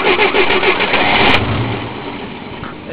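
A cold Moskvich car engine cranks and catches, running roughly and loudly up close before settling into a steadier idle.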